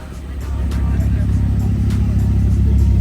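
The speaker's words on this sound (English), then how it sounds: "Very different cars turning up." Cars arriving at a car meet, a close, loud low engine rumble building and holding steady as a vehicle rolls in.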